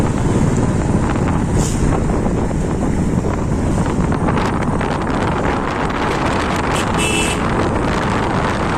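Steady, loud wind buffeting the microphone while riding a motorbike, a continuous broadband rumble with little variation that fully dominates the scene for the whole stretch.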